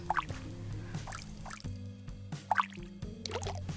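Watering flowers in modded Minecraft produces soft dripping, splashing water sounds in short bursts, repeating twice over a low, steady musical backdrop.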